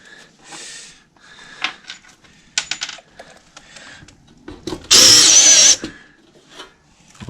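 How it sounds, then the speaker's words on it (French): Power screwdriver driving drywall screws into OSB while fixing a floor rail for a plasterboard partition, heard as one loud, sustained whirring burst of about a second amid scattered clicks, taps and handling knocks. "Je me visse carrément dans l'OSB"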